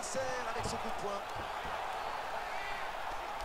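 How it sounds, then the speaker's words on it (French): A punch lands on an opponent in the EA UFC 2 mixed martial arts video game, giving a few faint, dull thuds early on beneath quiet crowd ambience and game sound. "Il touche son adversaire avec son coup de poing."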